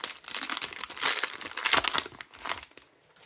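A Pokémon Scarlet & Violet booster pack wrapper crinkles and tears open in bursts of sharp, close foil rustling, several rapid crackles with short pauses between.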